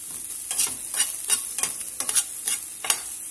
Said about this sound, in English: Just let these saute pretty slowly and keep them mixed up pretty often until they get nice and golden brown